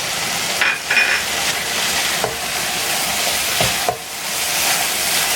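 Chopped onion and capsicum sizzle steadily in a hot pan, a constant bright frying hiss with a few soft clicks of stirring and no talking.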